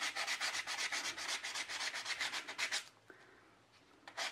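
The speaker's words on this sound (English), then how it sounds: "If you start doing this, you're going to be sanding forever." Sandpaper worked by hand along the edge of a cured resin piece, a close, quick run of rhythmic rasping strokes that stops near the end, followed by a few soft scrapes.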